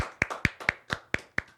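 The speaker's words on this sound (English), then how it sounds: "Can I get a round of applause for Seton Hall University, please?" About seven crisp hand claps from one or two people close to the microphone during a podcast, spaced evenly in a quick rhythm with nothing else sounding.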